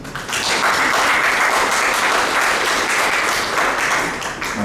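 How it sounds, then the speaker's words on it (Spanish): Audience applause welcoming a speaker named Pedro at a tribute gathering for Julia Wong: steady, dense clapping from a full crowd, loud and sustained throughout without talk. "Recibamos a Pedro con un aplauso"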